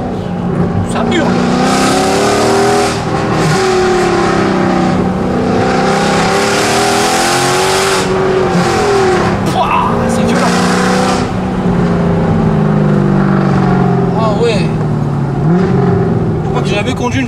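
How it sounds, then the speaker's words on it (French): A loud Mercedes C63 AMG engine roars and revs continuously, pitch rising and falling as it accelerates, with a voice occasionally heard beneath the noise. "J'ai jamais conduit une voiture qui fait autant de bruit."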